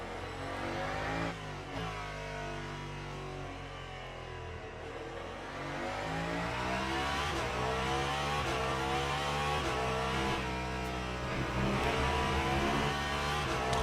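A race car engine in the sim racing game Le Mans Ultimate drones loudly and close as it drives to warm its tyres, pitch climbing and dropping through gear changes.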